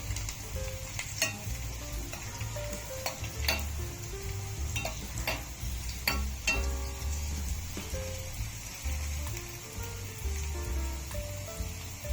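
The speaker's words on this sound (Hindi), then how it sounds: "इस तरह से गर्म गर्म घी और मेवे से मैंने हलवे को बघार दिया" Hot ghee with nuts poured over carrot halwa gives a continuous crackling sizzle. Scattered clinks and spoon taps against the pan are heard through it at moderate, fairly close volume.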